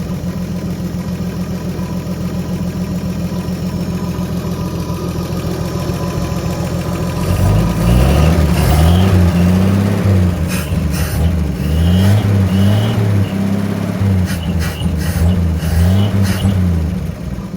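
A 1956 Chevy 210, revived after sitting 25 years, idles steadily and then revs repeatedly in loud, close bursts, with the engine note rising and falling over a constant rumble.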